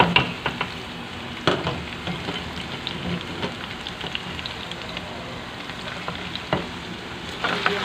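Onions and garlic sizzle and fry in hot oil for a dal tadka, a steady close crackling hiss with occasional sharper pops and stirring clicks, no talking.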